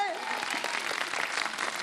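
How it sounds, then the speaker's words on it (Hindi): Studio audience clapping during a children's segment of a TV show, a busy patter of hands under a voice that talks and exclaims over the applause. "सारे के सारे तालियां हमारे बजाएं।"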